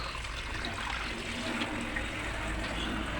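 Water trickles faintly and steadily while fish are set to soak, a soft continuous splashing flow with no voices.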